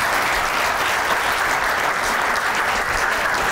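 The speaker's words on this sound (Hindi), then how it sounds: "क्लैपिंग करें इसके लिए जी" Studio audience clapping steadily, a dense continuous round of applause at constant strength with no speech over it.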